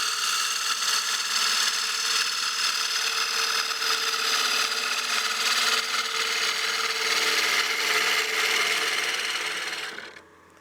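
A woodturning gouge cuts a partially seasoned wooden bowl spinning on a lathe, giving a steady, loud hissing scrape that holds for about ten seconds before stopping abruptly.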